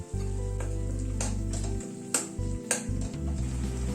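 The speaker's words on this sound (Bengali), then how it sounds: "কসুরি মেথিটা দিয়ে এই মিনিট খানেক একটু নাড়াচাড়া করে নিলাম" Masala with tomato and kasuri methi stirred in a pan for cauliflower curry: steady close scraping and sizzling with a few sharp spoon knocks against the metal, over a constant low hum, no voices.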